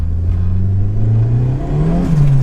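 A Ford Fiesta RS Turbo Mk3 accelerates along a straight road, its engine note rising steadily and loud from inside the car, with a brief dip before climbing again.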